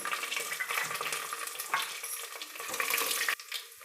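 Curry leaves and cut dried red chillies hit hot oil with a loud, crackling sizzle that fades partway and then drops sharply to a quieter hiss.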